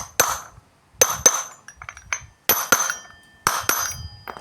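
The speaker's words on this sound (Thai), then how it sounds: "ดังแบบนี้นะครับ ไม่ดังกึกๆนะครับ ไม่ต้องตอกแรงนะครับ ค่อยๆตอก" Sharp metallic hammer strikes tapping a bearing into the rear wheel hub of a Honda Click 125i scooter ring out in small clusters, about eight taps in all, each with a bright, ringing resonance, close up and without talk.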